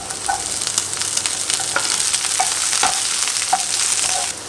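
Carrots and broccoli frying in a pan, with a steady close sizzle broken by regular scraping stirs of a spoon.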